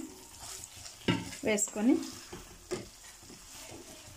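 Cauliflower pieces for gobi manchuria sizzle and crackle while frying in oil, with stirring scrapes in a few bursts, quiet and close, and a brief spoken word.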